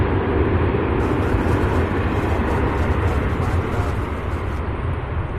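Loud, steady roar of an airplane engine at an airport, its sound reflecting off a nearby UPS building, a broad continuous rumble without breaks.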